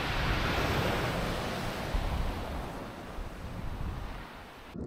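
Sea waves and surf wash continuously against the shore beneath the chalk cliffs at Étretat, a loud, steady roar with gusts of wind buffeting the microphone and no voices.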